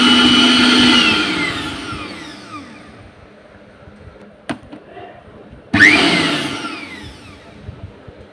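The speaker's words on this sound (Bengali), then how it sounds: "দেখেন আমরা ব্লেন্ডারটা চালু করে দিলাম।" A Vision electric blender whirs loudly at the start and winds down, followed by a sharp click and a second short loud burst of motor noise that fades again.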